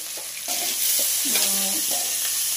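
Raw banana and onion pieces frying in a pan with tomato pieces and a little fenugreek, giving a steady close sizzle with stirring scrapes and utensil clinks throughout.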